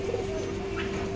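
Kalsira pigeons cooing at close range, part of a pigeon keeper's birds in Malad, Mumbai, with a steady, soft, low coo running continuously over a faint background hum.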